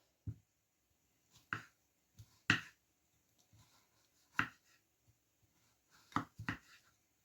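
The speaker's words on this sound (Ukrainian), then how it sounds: "взяло грибочки, шампіньончики і буду нарізати" A knife cuts through champignon mushrooms on a board in a quiet setting, with about nine sharp, separate taps spaced irregularly, some coming in quick pairs.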